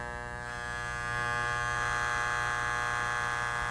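A steady Wahl electric hair clipper buzz with a strong tonal hum as its adjustment screw is turned, getting slightly louder and rougher after the first second, running continuously up close.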